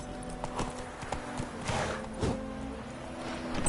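Hoofbeats of a horse being ridden in The Witcher 3 video game, a steady clip-clop rhythm at close range over a low ambient game soundscape.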